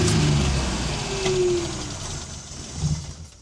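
A 1987 Daihatsu Atrai EX van with an intercooled turbo and four-wheel drive revs once, close by. The engine note swells and climbs, then eases back to a rough idle.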